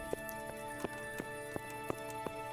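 Horse hooves clip-clop in Kingdom Come: Deliverance, a regular walking rhythm of sharp hoof strikes roughly every third of a second over a steady ambient bed, fairly close and clear.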